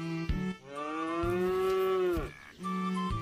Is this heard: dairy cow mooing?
yes